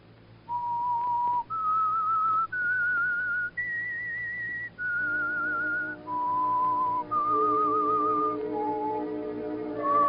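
A lone human whistle carries the haunting signature melody of The Whistler radio show, a slow series of sustained notes stepping up and then down, clear and prominent over a faint low background hum.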